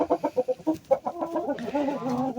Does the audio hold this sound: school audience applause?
no